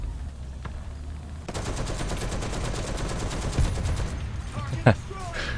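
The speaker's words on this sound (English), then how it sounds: "Still got him with the machine guns." Rapid machine gun bursts from a tank in the War Thunder ground battle game, a loud rattling stream of shots lasting a few seconds with engine rumble beneath and a louder thump near the end.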